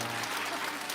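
Church congregation breaking into applause during a Sunday worship service, a dense, steady wash of clapping hands filling the whole second without pause.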